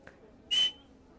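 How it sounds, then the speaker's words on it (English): A single short, sharp whistle from a person, close and clear, lasting a fraction of a second against near silence. "Okay, I whistled."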